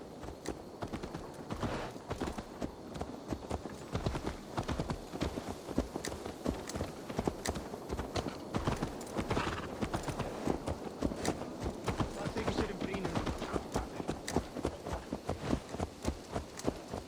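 Horse hooves clip-clop steadily in Assassin's Creed Valhalla on PS4, a continuous walking rhythm of close, distinct hoofbeats lasting throughout over a low ambient bed.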